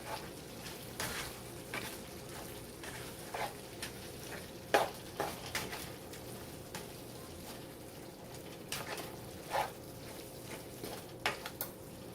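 A pan of chicken, tomato and spinach pasta being stirred on a switched-off stove, with faint scraping and soft sizzling plus a few sharper clinks of a utensil against the pan spread across the stretch.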